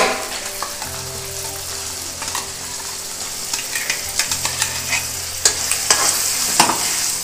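Chicken liver fries with ground spices just added, making a loud close sizzle with a low hum underneath and a run of quickening spoon scrapes and taps toward the end, without any speech.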